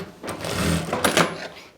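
A sewing machine runs a short burst of stitching on a farshi salwar, a close, rapid mechanical whirr with a couple of sharper clacks near the end.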